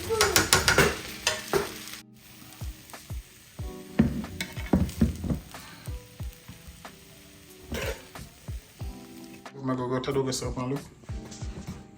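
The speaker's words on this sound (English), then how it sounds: "So I'm just gonna let this sit on the fire for about a minute." Chicken fried rice sits in a pan over a fire, a soft frying sizzle with scattered clicks and knocks of cookware, heard close beneath a person talking through much of it.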